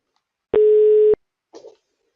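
A single steady telephone ringback tone of about half a second, loud and clean, as a call is placed to an automated flight-booking voice bot, followed by a brief faint click or rustle and silence.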